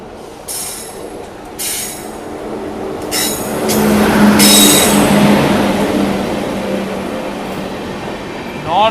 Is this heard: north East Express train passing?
yes